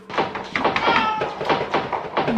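A cat meows several times in quick succession, close and fairly loud, with light taps and soft thuds mixed in.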